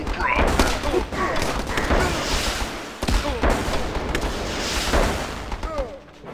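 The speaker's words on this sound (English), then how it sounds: "Mortars loaded." Mortar and gun fire in Battle Islands: Commanders, with repeated booming blasts and sharp cracks through a busy battle bed, plus a few short game voice calls over the top.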